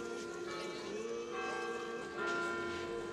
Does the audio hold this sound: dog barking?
no